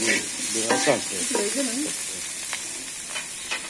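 Potatoes sauté with oil and spices in a pan, making a loud, continuous sizzle with scraping stirs, and a brief voice speaks over it at the start.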